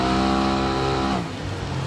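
Off-road truck engine revving hard at high pitch as it hits a jump, then dropping sharply in pitch, loud and close with no talk.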